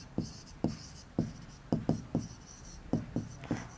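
A marker or chalk strokes across a board in a series of short, sharp scratchy marks drawing a circle, spaced in uneven pairs and singles, close and fairly quiet with no talking.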